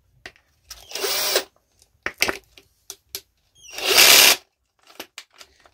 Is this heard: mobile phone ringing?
no